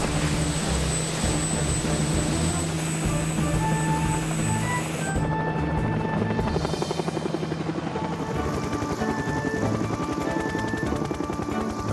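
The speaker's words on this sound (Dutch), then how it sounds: "Niet als je met de helikopter gaat." Cartoon helicopter flying with a steady, loud rotor thrum and engine whine that changes midway into a rapid chopping beat, heard alone without talk.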